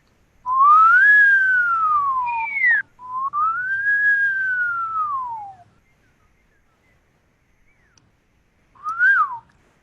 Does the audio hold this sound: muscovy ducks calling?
no